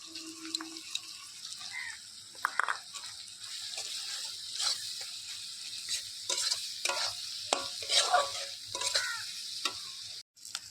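Chopped onion and chili sautéing with spices in a pan while cooking outdoors on a rooftop, a steady hiss of frying broken by scraping stirs and clinks of the spoon, with no talk over it.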